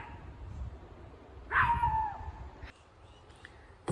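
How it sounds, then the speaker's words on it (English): Outdoors by a garden, a dog gives a single drawn-out whining bark that trails off, mid-loud over steady background noise, followed by a few faint clicks. "my dog kills the silence."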